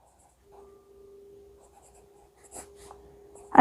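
Chalk or marker scratching on a classroom board in short strokes, faint taps and brief scrapes ending in a louder knock, close and quiet with a steady hum behind and no talking.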